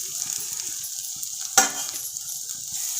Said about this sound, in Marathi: पहा, चांगलं पोहे असं व्यवस्थित हलवून घ्यायचं आहे आपल्याला मिक्स करून.